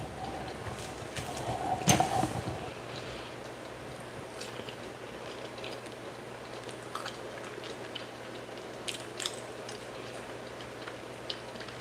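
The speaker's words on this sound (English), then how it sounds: "you notice that I'm chewing so damn close to the camera" Someone chews skillet potatoes with kielbasa sausage and runny eggs right at the microphone, giving soft, wet, irregular smacking and clicking sounds with a louder burst near the start over low background hum.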